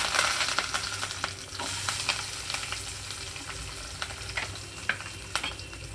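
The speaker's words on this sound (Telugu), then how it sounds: "ఇప్పుడైతే నేను ఉల్లిపాయలు వేస్తున్నాను ఇందులోకి అలాగే కరివేపాకు రెమ్మలు కూడా" Sliced onions, curry leaves and cashews sizzle in hot oil over a low flame while making mint rice; a steady frying hiss runs throughout, broken by occasional clicks of a spoon stirring in the pan.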